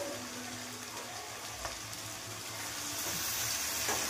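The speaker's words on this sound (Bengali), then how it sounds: "এবার মাংসগুলো দিয়ে দেবো।" Mutton pieces hit a pan of spiced masala and set off a steady, broad sizzle of frying that runs evenly throughout with only faint knocks underneath.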